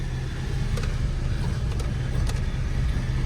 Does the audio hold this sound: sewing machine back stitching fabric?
no